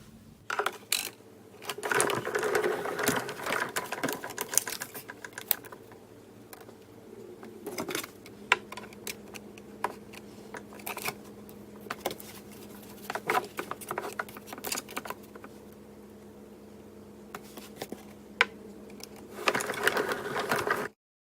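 A Big Shot die-cutting machine is cranked through a crafting pass, giving a quiet, uneven mechanical clatter and ratcheting with scattered ticks and clicks over about twenty seconds, no voices.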